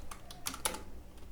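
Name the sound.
typing on a computer keyboard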